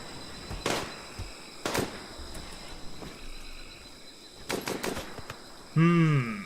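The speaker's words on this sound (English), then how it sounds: "Gunshot with a heavy SMG." Short, sharp bursts of heavy SMG fire from a firing range in the Rimworld video game, several separate volleys spaced a second or two apart over a quiet background with a faint insect-like hum.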